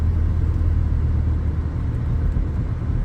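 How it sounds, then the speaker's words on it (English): A low-powered inline four-cylinder car engine pulls steadily at low revs, a dense continuous rumble heard from inside the cabin while gradually speeding up to about 40, with no voices. "This is a low-powered 4-cylinder inline, I believe."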